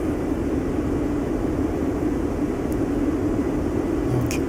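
PMDG 737-800 airliner in a flight simulator, gaining speed and slowly climbing after takeoff from Zurich: a steady, even low engine drone and airflow rumble throughout, with no talking.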